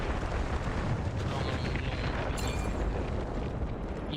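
Artillery barrage in the shooter game Delta Force, a dense rolling roar of overlapping explosions and rumbling blasts, loud and sustained, with faint voices mixed in.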